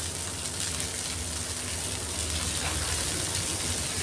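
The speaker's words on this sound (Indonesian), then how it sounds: "Kita tumis sebentar." Bean sprouts stir-frying in a pan after the cooked spice paste, a steady close hiss and sizzle that runs without pause over a low hum, with no talking.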